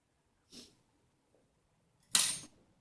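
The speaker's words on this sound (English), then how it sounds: "Sorry for the sniffing. I'm having a cold." Two sniffs from someone with a cold: a short soft one, then a louder, sharper sniff about a second and a half later, in a quiet indoor setting.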